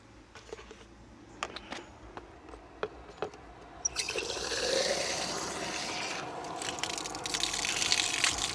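Water bottles being refilled during a hot bike day out: scattered clicks and taps at first, then a steady rushing gush of water from about four seconds on, fairly close and continuing to the end.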